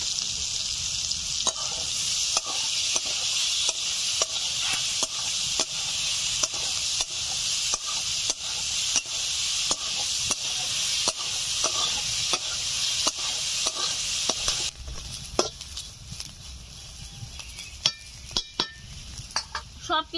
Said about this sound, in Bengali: সবকিছু 5-7 মিনিট ধরে ভালো করে ভাজা ভাজা করে নিয়েছি